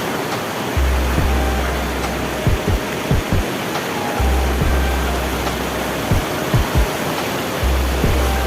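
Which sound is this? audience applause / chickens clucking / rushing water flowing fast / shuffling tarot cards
rushing water flowing fast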